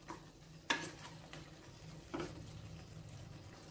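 Chicken biryani with rice, yogurt and lemon juice being mixed in a cooker pot, soft close stirring and a light sizzle broken by two sharp metal knocks from the spoon.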